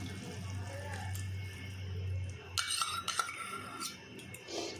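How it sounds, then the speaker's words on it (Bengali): A spoon stirs a mixture of tomato sauce and soy sauce in a bowl, producing a short run of light clinks against the dish over a quiet kitchen background. "আমি এটা একটু চামচে করে নাড়িয়ে আমি একটা বাটিতে মিশ্রণটি তৈরি করে রেখেছি সসের"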